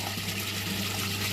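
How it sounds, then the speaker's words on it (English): Water running steadily through an aquaponics grow bed siphon, a continuous rushing trickle, close and alone. "Hopefully that siphon will start."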